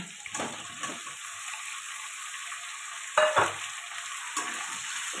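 Sliced ridge gourd frying with salt in a pan: a steady hiss of oil, broken by scraping stirs and a louder clattering turn partway through, close up with no voices.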